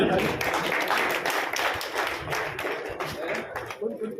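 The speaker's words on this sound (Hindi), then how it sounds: "तालियों की गिड़गिड़ाहट के साथ हमारे माननीय विधायक जी का स्वागत अभिनंदन" Audience applause welcomes a legislator at a political assembly, steady dense clapping throughout, loud and close, filling the space.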